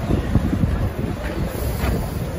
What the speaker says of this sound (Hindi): बड़ी ज़बरदस्त किस्म की ठंडी हवा चल रही है बाहर।